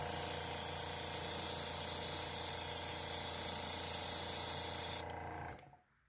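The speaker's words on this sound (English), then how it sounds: "get that new Iwata loaded up with the red, and let's get spraying" A steady, loud Iwata airbrush hiss sprays red paint onto a turkey decoy continuously for about five seconds, then cuts off and fades to silence.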